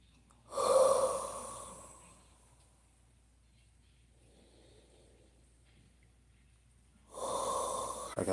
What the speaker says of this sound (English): Let me breathe real quick.